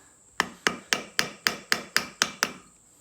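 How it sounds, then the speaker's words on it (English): A sharpened small screwdriver is tapped against an outboard motor seal around the propeller drive shaft, giving nine sharp, evenly spaced metallic taps at close range with no talk. "So I'm gonna see if I can tap this one out."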